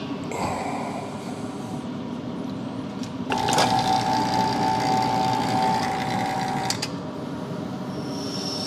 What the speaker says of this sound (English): All right, into the vac chamber.